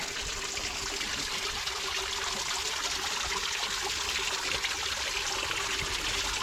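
Water from a small spring-fed woodland stream flows and bubbles continuously, a steady broadband rush that stays loud and close throughout with no pauses or speech.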